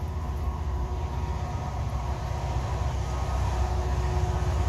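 A Norfolk Southern maintenance-of-way train with an SD60E locomotive leading and camp cars rolls past at night, a steady loud rumble of wheels and engine close by, building slightly toward the end, with no talking.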